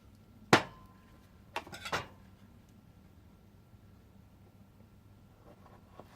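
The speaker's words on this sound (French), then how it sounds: "on va couper notre kiwi en deux." A knife slices a kiwi in half on a cutting board while a fruit smoothie is prepared. One sharp, close knock of the blade on the board is followed about a second later by two quicker taps, then quiet.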